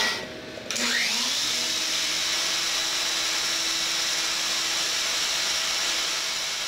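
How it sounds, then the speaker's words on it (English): Woodworking router cutting a tongue in a workbench for a Benchcrafted vise, a loud continuous high whine that rises sharply after a brief spin-up and holds steady close by, with no talk. "take a few more progressive cuts in order to get all the way down here"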